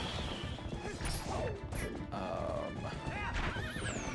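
Horse neighing in The Legend of Zelda: Twilight Princess HD, a few whinnies with rising and falling pitch over busy game action, crashes and hoof clatter, fairly loud and close.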